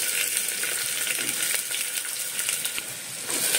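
Thinly sliced onion fries in two spoons of hot oil in a pressure cooker, a continuous close sizzle with faint stirring ticks.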